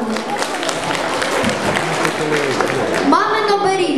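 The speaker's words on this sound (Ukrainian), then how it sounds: "Красуцький Назар, ваші оплески Назару." Audience applause at a village talent show in Ukraine, steady broadband clapping throughout, with a brief louder swell near the end.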